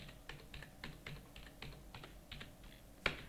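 Keys clack on a computer keyboard as an account number is entered, in a quick, fairly even run of soft, close taps ending with one sharper keystroke, faint and without speech.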